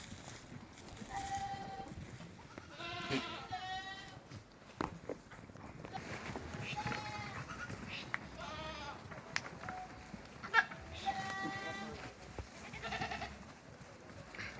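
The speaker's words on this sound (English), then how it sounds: "Goats enjoying their treat." Several goats bleat on and off while eating tree leaves, nearby and fairly quiet, with soft rustling and shuffling between calls.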